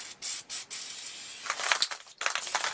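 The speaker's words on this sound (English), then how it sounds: "All I'm going to do is spray." An aerosol spray paint can spits in short hissing bursts, three quick sputters followed by a longer uneven spray that cuts in and out, close to the microphone.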